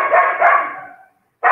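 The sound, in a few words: dogs barking indoors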